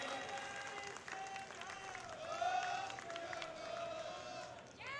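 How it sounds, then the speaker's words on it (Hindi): A rally crowd welcoming Rajnath Singh in Kashipur breaks into sustained applause and cheering, a steady dense wash of clapping heard from some distance, fairly faint, continuing for several seconds. "सभी से निवेदन है, जोरदार तालियों से स्वागत करेंगे।"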